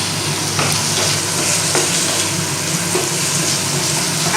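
Onions, capsicum and tomato frying in a pan, a loud continuous sizzle with a few soft scraping stirs over a steady hiss.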